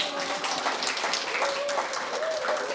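Audience clapping at a talk on brain color therapy, a moderate, steady patter of many hands in a room, with faint voices mixed in underneath.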